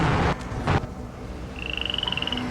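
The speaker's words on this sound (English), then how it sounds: "Frogs with 3 purple spots." Frogs croak in a short, rapid pulsed series in the second half, after a couple of louder bursts of background noise; no speech.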